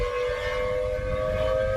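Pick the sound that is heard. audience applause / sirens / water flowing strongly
sirens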